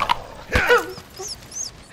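A dog whimpering and yelping in the video game As Dusk Falls, a sharp close cry followed by a few thin, higher whines trailing off.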